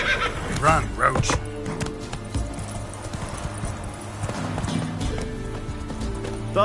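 Roach, a horse in The Witcher 3 video game, galloping with rhythmic clip-clop hoofbeats and whinnying near the start, while other game sounds and speaking voices carry on over the hooves.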